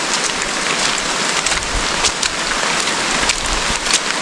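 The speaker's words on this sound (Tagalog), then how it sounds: "titila itong ulan na ito." Heavy rain pours during an overnight stay out in a farm field, a loud, unbroken hiss of drops hitting surfaces close by, with no talking.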